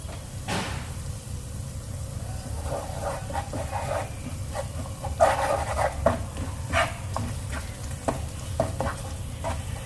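Clam meat cooked with turmeric being stirred in a pan, a spoon scraping and turning the food in uneven strokes over a low sizzle, close and fairly loud, with sharper scrapes clustered midway.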